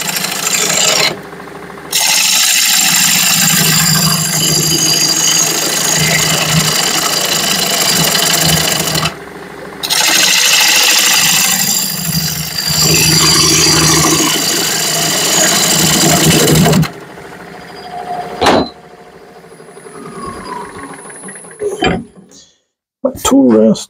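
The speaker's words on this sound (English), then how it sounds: "So here we go. I'm going to start hollowing out." A wood lathe is used to hollow out wood, with a loud, rough rasping that runs in long stretches broken by short pauses and gives way to scattered knocks and clatter near the end.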